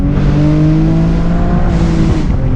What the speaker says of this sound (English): Let's listen to the Camaro.